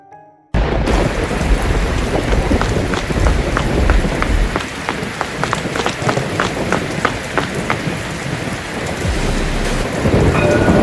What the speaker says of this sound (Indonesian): Tiba-tiba aja hujan.